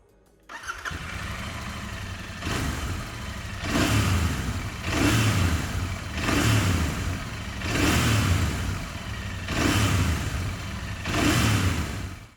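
Royal Enfield Interceptor 650 parallel twin idling near and loud, then blipped in six evenly spaced throttle revs that swell and fall back to a steady thumping idle, with no talk.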